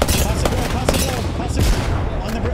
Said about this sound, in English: They're getting shot on the side.